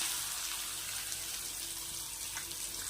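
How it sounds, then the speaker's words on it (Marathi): Finely chopped onion frying in a pan for a spicy peanut chutney, a steady, loud sizzling hiss that runs unbroken from start to finish with no talk. "असे बारीक कट करून आता कांदा टाकू आपण"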